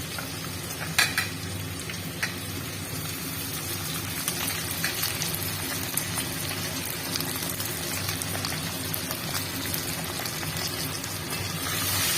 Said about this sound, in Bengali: আদাটা খাদা কুচিটাকে দিয়ে দিলাম